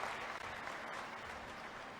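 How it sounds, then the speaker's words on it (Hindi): Loud, dense applause from a large crowd at a Madhya Pradesh government public event in Sidhi district, honoring the Chief Minister; steady clapping fills the whole two seconds with no speech over it. "एक जोरदार ताली आदरणीय मुख्यमंत्री जी के सम्मान में समर्पित हो"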